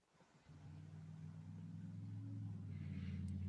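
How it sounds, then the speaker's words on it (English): Car passing outside a window, a low engine rumble fading in after a brief quiet moment and swelling gradually as it approaches, heard faintly from indoors. "there's a car passing outside my window"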